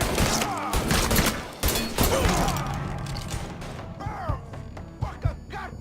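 Gunfire in the Mafia 3 video game: loud bursts of shots and crashing impacts, dense at first, then thinning into scattered single hits with shouting voices mixed in.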